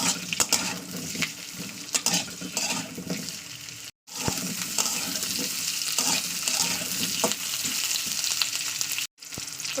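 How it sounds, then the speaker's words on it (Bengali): Potato pieces fry in hot oil for a lata fish curry, giving a steady, loud, close sizzle with scattered stirring clicks and scrapes, broken by two brief silences. "আলুটাকে দেওয়ার পর না তেলের উপরে একটু দু তিন মিনিট একটু ভেজে নিতে হবে"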